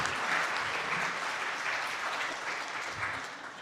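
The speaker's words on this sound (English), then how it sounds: "Big round of applause." An audience claps warmly after a talk by members of the Vuntut Gwitchin First Nation of Old Crow. The applause is steady and fairly distant, holding for several seconds and then gently tapering.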